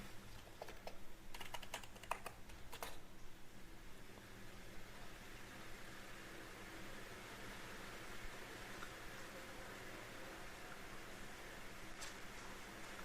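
Quiet clicking keystrokes on a computer keyboard, a short burst of taps early on and a single faint tap later, over a low steady room hum.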